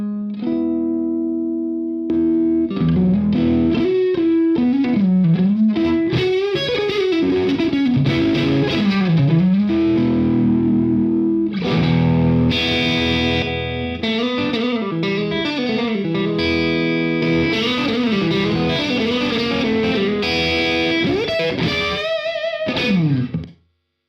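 Electric guitar through a Friedman Buxom Boost pedal pushing the amp, with a slight added bass kick: loud, driven, sustained chords and melodic lines ring out with a touch of reverb for about twenty seconds before stopping abruptly.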